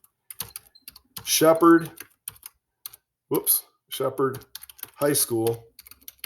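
Computer keyboard typing comes in quick clustered bursts of key clicks, close and clear, interleaved with a person speaking.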